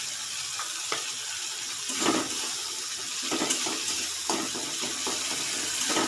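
A ginger, green chilli and cumin paste sizzles in hot oil in a pan for matar paneer. The hissing crackle is steady and moderately loud, with scattered sharper pops and clicks.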